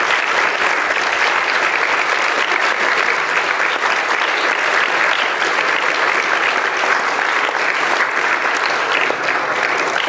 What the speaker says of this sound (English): I'd like to have a massive round of applause for Vince